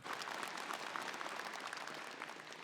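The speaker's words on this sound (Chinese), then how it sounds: "我觉得这里的掌声其实也是送给我们的所有研发兄弟姐妹们啊" Audience applause at the REDMAGIC 10 Pro phone launch event, a steady, fairly faint patter of many hands clapping together for a few seconds, heard from a distance in a large hall.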